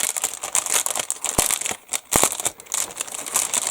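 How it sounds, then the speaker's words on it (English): Crinkly plastic bags holding HK Models 1/48 B-17G Early Production model kit sprues rustle and crackle steadily up close, with a couple of sharp low knocks partway through and no speech. "Nice, good, sturdy, crinkly bags."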